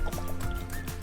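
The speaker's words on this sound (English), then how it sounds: "I filled it up, watered some flowers, and then dumped the water out" Water gurgles and trickles as an emptied propane bottle is filled and dumped out, a brief burst of glugging and dripping at close range.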